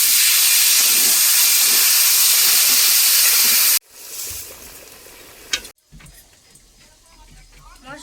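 Water poured into a hot pan with grated ginger bursts into a loud, steady hiss for several seconds, then cuts off abruptly; quieter kitchen clatter and faint rustling follow.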